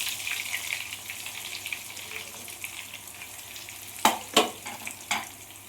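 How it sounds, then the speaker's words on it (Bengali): Vegetable chops sizzle in hot oil with a steady, moderate crackle, followed near the end by a few sharp bursts of spitting as the chops are added or turned. "এবার একটা একটা করে আমি ভেজিটেবিল চপগুলো দিয়ে দিচ্ছি, ভেজে নিচ্ছি ভালো করে।"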